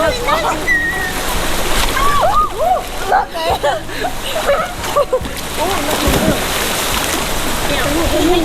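Splashing and sloshing in shallow sea water as children play, with steady wet splatter throughout and voices of children and adults talking and calling over it.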